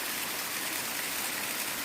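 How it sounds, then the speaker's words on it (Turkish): Constant roar of a travertine waterfall in Giresun, Turkey, fills the scene, a dense broadband rush from close by, steady and unbroken. "Evet, şöyle ikinci şelalenin ayağı"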